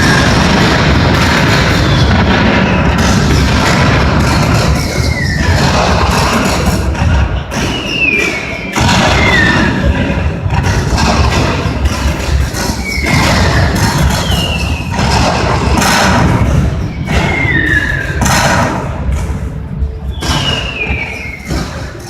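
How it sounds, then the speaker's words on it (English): Civil War cannon fire from Confederate and Union guns booms again and again in a heavy bombardment, deep thuds rolling on with whistling shells overhead. "150 Confederate cannon open fire. Union guns thunder back."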